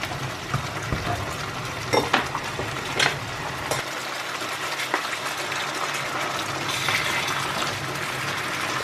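Curry fish cooks in a pan over medium heat, a steady close sizzle and bubbling with occasional stirring knocks and no talking.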